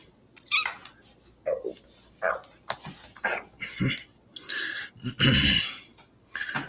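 A cat meows several times in short, separate calls with brief pauses between them, fairly close and fairly loud.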